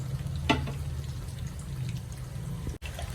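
Chicken vada pieces sizzle in hot oil, a steady low bubbling crackle with a brief clink or splash near the start, continuous and close.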